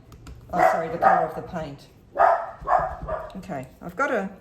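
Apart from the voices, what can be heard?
dog barking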